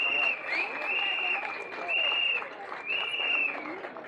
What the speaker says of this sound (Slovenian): Še en aplavz, prosim, za njo.